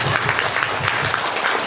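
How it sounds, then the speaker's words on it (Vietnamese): Audience applause at a presentation in Malaysia, a dense, steady patter of many hands clapping throughout, fairly close and loud. "Tự vỗ tay."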